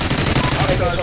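A minigun in Call of Duty: Ghosts fires a continuous rapid burst, loud and close, its rattling rounds blurring into a dense roar with a voice faintly underneath.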